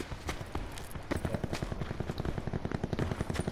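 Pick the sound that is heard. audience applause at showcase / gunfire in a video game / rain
gunfire in a video game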